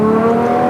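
A Ferrari 812 GTS with Novitec modifications and its V12 running with the roof down gives a steady, loud, close engine drone with a strong low harmonic tone, heard only briefly.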